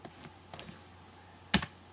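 Someone types a URL on a computer keyboard, a few light, sparse keystrokes close by, then a firmer double clack near the end.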